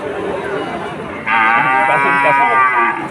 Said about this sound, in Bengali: এইটা কি সুন্দর একটা আদিয়া বাছুর?